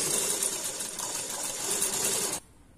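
A sewing machine stitches saree fabric in a fast, even whirring clatter for about two and a half seconds, then stops abruptly into near quiet.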